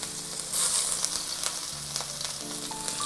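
Onion pieces, garlic and ginger hit a hot pan for Singapore rice noodles, a bright hiss of frying that jumps up sharply after a brief moment, then settles into a steady sizzle.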